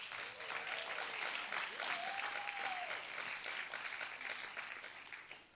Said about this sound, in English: Can we give our dads a mighty cheer?